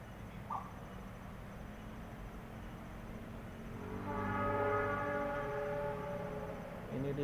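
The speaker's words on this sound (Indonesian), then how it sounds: "35-nya sudah berbunyi ya. Tandanya kereta udah dekat." KA Pangandaran train approaching on the line near Malangbong and Gentong, its horn sounding as a long sustained blast over a steady low rumble and ambient noise.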